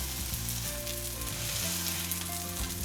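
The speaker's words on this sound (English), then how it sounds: "So let these cutlets cook for another 2 minutes on the other side" Vegetable cutlets frying in a pan of oil, with a dense, steady sizzle and crackle heard up close and without pause, no voices over it.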